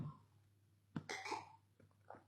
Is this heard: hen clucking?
no